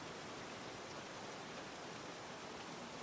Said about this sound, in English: That rain ambience is quite loud.